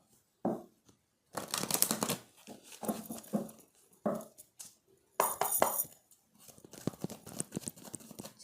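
Tarot cards shuffled close by in several quick, papery bursts of riffling and patting, separated by short pauses.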